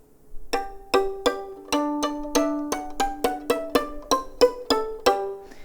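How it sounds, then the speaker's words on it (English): A violin played col legno, struck with the wood of an upside-down bow, about a dozen dry, pitched taps in a steady rhythm, each with a short ringing tone. "when we're doing col legno, we turn the bow upside down and use the wood."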